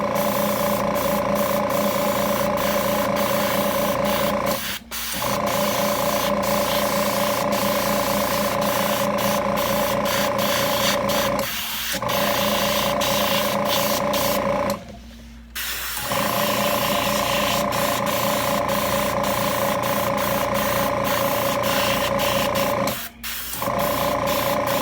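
An airbrush sprays yellow paint onto a Dracula figure's hair in steady hissing bursts, with a few short pauses between passes and a compressor hum running underneath.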